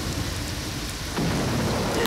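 Steady heavy rain pours down with rumbling thunder, and the roar swells louder about halfway through, with no voices over it.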